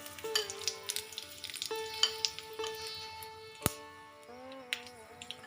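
Dry red chilli, bay leaf and whole spices fry in hot mustard oil, a soft crackling sizzle with light spattering pops, heard up close alongside quiet background music.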